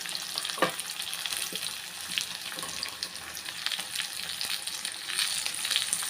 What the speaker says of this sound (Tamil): வெங்காயம் பூண்டு எல்லாம் பாருங்கள் நல்லா வதங்கி வச்சுங்க